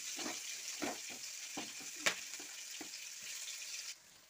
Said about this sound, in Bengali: এখন আমি পেঁয়াজটা দিয়ে দিচ্ছি।